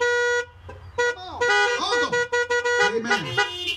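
Car horns honk repeatedly in short and longer blasts from several vehicles, loud and close, during an outdoor drive-in church worship service, with a few brief gaps between bursts.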